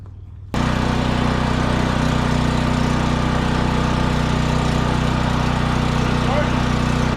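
A heavy tractor engine starts abruptly and settles into a steady, loud idle that runs on without a break.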